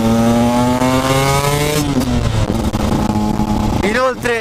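A 2015 Husqvarna TE 125 two-stroke motorcycle with an HGS full exhaust and VHM head revs hard and loud up close, its pitch climbing through gears before a brief lift, then rising again.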